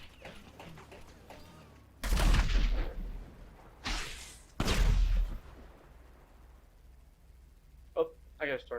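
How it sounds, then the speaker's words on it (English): Gunfire in a video game: a few loud, sharp bursts of shots, the biggest near the start and middle, followed by quieter clatter, with voices talking through the scene. "I'm shooting right near him and he's not dying."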